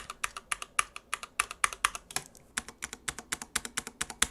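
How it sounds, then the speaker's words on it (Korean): Steady mechanical keyboard typing on Corsair K70 Cherry silver switches, with crisp, light clicky keystrokes in a quick, even rhythm, close and clear with no voices. "그 다음에 키보드 소리 들려드릴게요"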